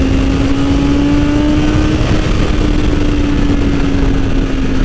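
A 2020 BMW S1000RR M motorcycle engine at high revs, a loud sustained drone buried in heavy, constant wind roar, without clear rises or gear changes.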